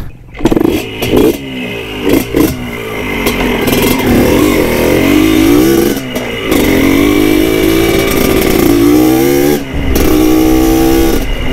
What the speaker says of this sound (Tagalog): ito pa rin yung 2-stroke ang gamit ko ngayon